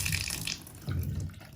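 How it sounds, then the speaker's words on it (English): Water runs from a bathtub faucet and drains down through a toe-push tub drain, a steady soft splashing and gurgling that swells again after a brief dip, heard alone without talk. "I'll turn the water on real quick so you can see how the water just drains"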